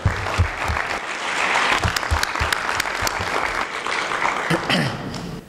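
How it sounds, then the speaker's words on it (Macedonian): An audience claps enthusiastically for several seconds at a speech event in Skopje, Macedonia, a dense burst of hand claps that holds steady before tapering off. "И тоа стварно заслужува еден аплауз"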